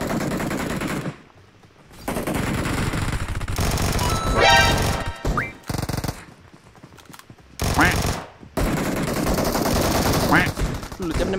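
Bursts of gunfire in the mobile shooter PUBG Mobile: repeated automatic volleys and single shots, loud and close, broken by short silences, with someone talking and shouting between and over the shots.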